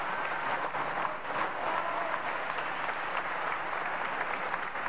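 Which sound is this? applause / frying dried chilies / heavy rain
applause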